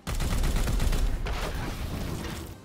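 Sustained gunfire from Warhammer 40k: Chaos Gate – Daemon Hunters, a dense, loud barrage of rapid shots with booming low end and mechanical clatter, continuing steadily for the whole stretch with no talking.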